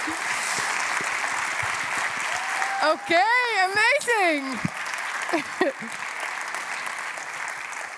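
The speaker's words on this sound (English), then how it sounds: "please give her a big round of applause, everyone" Audience applause at a talk on climate action in The Hague, a steady wash of clapping throughout, with a voice briefly speaking over it partway through.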